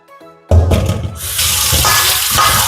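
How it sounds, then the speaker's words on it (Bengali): Fish being washed under a running kitchen tap for a Bengali fish curry, with water gushing steadily into a sink after a quiet start, loud and close throughout. "প্রথমে মাছটা ধুয়ে নিচ্ছি"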